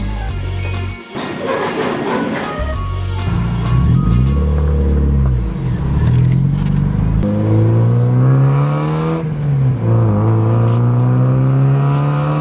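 Engine of an NB Mazda Miata with a newly installed engine and stock exhaust, revving loudly and repeatedly, rising and falling in pitch with a deep, steady idle between revs, close to the car with no talk.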